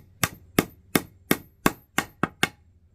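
Hammer driving a soap-lubricated nail into hardwood: eight sharp, ringing strikes at a steady, brisk rhythm, each a crisp close impact with a short decay, and no talking.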